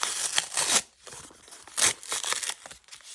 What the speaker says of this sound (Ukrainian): Давайте відкриємо пакетик.